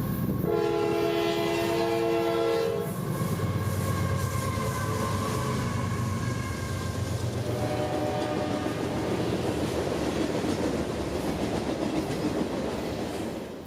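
A CSX yard-to-yard manifest freight train, number 453, sounds its horn in a loud, close multi-note blast, then rumbles past with steady wheel and car noise that continues to the end.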